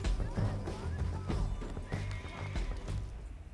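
A horse in Red Dead Redemption 2 whinnies loudly and close by, with hooves clip-clopping in uneven bursts under the neigh.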